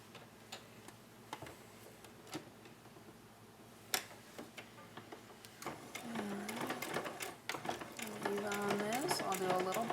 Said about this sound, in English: I'm going to go ahead and put a seam really close to the edge and make sure this all gets sealed up nicely.